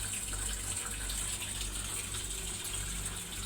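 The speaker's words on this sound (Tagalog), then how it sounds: "Yung tubig, oh, malakas na." Water gushes steadily into an LG automatic washing machine as it fills, a continuous rushing flow over a low mechanical hum, with no talking.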